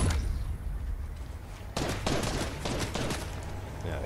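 Gunfire from enemies in a video game, a dense clattering volley breaking out midway and continuing over a steady background of game noise.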